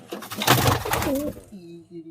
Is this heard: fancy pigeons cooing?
yes